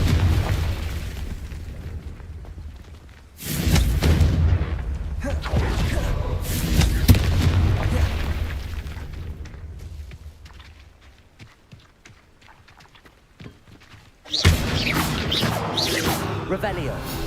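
Confringo spell blasts in the Hogwarts Legacy video game, a series of loud booming explosions with a fresh burst near the end, mixed with game sound and a voice talking over them.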